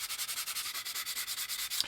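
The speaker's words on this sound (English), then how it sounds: "I'll probably do that a little bit with a sanding block" Rapid, even back-and-forth rasping of a sanding block on wood, about ten strokes per second, steady and close with no talking.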